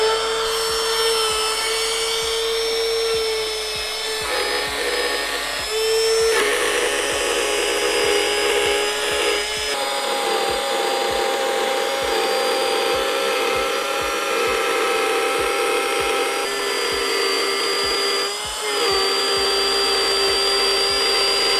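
A power tool plunges steadily into wood while building a Skar Audio custom subwoofer enclosure, giving a loud, continuous high-pitched whine with a few slight changes in pitch and no talking over it.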